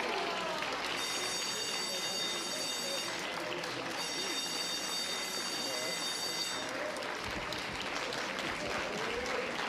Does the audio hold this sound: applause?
yes